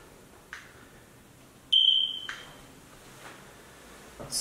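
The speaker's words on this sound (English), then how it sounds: "Smoke alarm not working." A smoke alarm in an evicted rental house in Akron, Ohio gives a single short, shrill electronic chirp, clear against a quiet room with faint handling noises before and after.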